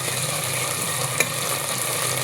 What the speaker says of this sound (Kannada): ಸ್ವಲ್ಪ ಶುಂಠಿ ಬೆಳ್ಳುಳ್ಳಿ ಪೇಸ್ಟ್ ಹಾಕ್ತಾಯಿದ್ದೀನಿ, 1 ಸ್ಪೂನು